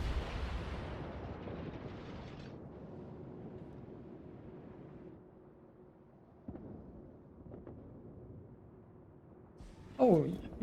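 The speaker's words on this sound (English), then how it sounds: "now the Yamato secondaries are opening up" In World of Warships, the Yamato's secondary guns boom with deep, rumbling reports that fade into a low roll, followed by scattered fainter thuds and a sharp crackling burst at the end.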